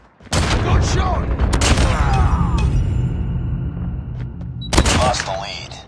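Gunfire in a Call of Duty video game: sharp, close shots burst in rapid clusters with a reverberant tail, then a second volley near the end, while in-game voices call out over the action.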